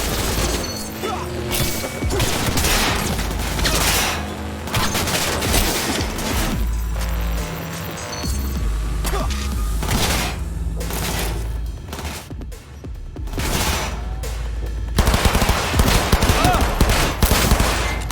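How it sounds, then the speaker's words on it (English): Video game gunfire in Cyberpunk 2077, rapid automatic bursts and heavy single shots mixed with crashes and booms, loud and dense across the whole stretch, with little pause between volleys. "Heard shots."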